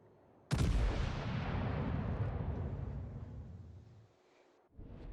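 A single heavy naval gun salvo fires in World of Warships, a sudden booming blast at close range that rolls off into a long, decaying rumble, with no talk over it.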